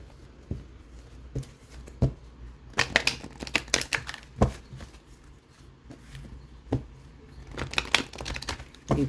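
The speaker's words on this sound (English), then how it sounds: "still going to shuffle them on camera so you all can see" Oracle cards from the Soul's Journey deck by James Van Praagh are shuffled close up, giving irregular riffling clicks and soft slaps in bursts, with no one speaking.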